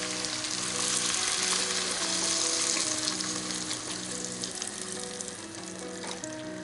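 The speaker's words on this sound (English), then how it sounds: "Got to put in the vegetable stock in there now." Vegetable stock goes into a hot pot on high heat for beetroot soup, giving a loud, continuous sizzling hiss that slowly settles, with faint stirring and a low steady hum underneath; no voices.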